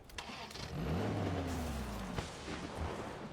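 A car engine in the PUBG video game revs up and drones steadily at close range as the vehicle drives off, with a sharp click midway.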